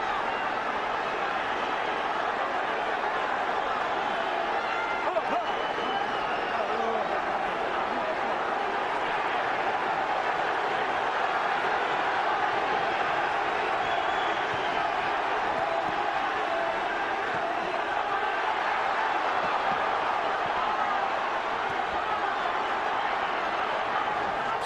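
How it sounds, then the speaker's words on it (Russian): A boxing arena crowd at a featherweight title fight roars in a sustained ovation through the closing seconds of the final round, a dense, steady wash of cheering that fills the hall without a break, with a commentator's voice faintly over it. "Этот раунд идет под овацию."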